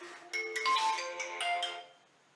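A phone ringtone plays a bright, melodic tune for an incoming call indoors, with a few quick repeated notes that fade out at the end, heard alone without talk.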